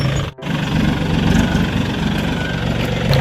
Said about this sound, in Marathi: तर गाईज आता मी बसलो ट्रॅक्टरवर.